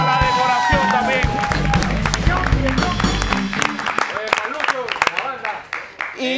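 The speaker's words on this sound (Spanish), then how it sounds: "Aplauso a Ñoño" Crowd applause and cheering at a party, loud and continuous with dense clapping and shouts throughout, fading somewhat toward the end.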